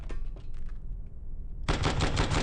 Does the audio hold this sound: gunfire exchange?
yes